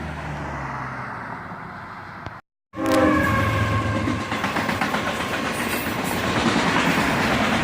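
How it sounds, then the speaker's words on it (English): A southbound CSX autorack freight train led by ES44AC locomotive 756 rolls past close by, a loud continuous rumble with clattering wheels and metallic squeal, broken by a brief dropout before the steady roar resumes. "A southbound autorack train led by CSX 756 and ES 44 ACH."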